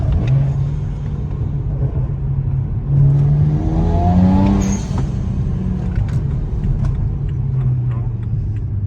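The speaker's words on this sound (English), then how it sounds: "So there, I'm downshifting." A 2008 BMW 335i engine revving during a downshift, heard from inside the car as a steady loud rumble with a rising and falling rev swell around the middle.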